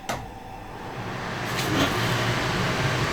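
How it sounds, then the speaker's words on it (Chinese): A kitchen exhaust fan running over a wok of heating oil, a steady broadband whoosh that builds slightly in loudness, heard close with a faint clatter at the start and no talk. "开排风，整得乌烟瘴气的"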